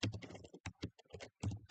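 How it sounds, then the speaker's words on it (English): Rapid typing on a computer keyboard, close and clear, with bursts of keystrokes broken by brief pauses. "So let's type a bit."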